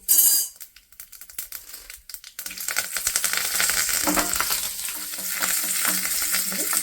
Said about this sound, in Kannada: ಸ್ವಲ್ಪ ಜೀರಿಗೆ, ಸ್ವಲ್ಪ ಒಂದು ರೆಕ್ಕೆ ಕರಿಬೇವು ಹಾಕ್ತಾ ಇದ್ದೀನಿ